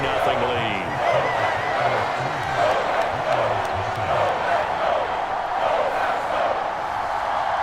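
A stadium crowd in Madden NFL, Detroit Lions vs Green Bay Packers, reacts to an opening-drive field goal with a steady, moderate roar. Commentators talk over it.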